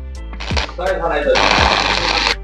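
Arc welding on the fourth steel rod of a school window grille gives about a second of close, steady crackling hiss over a constant low electrical hum, with someone speaking just before.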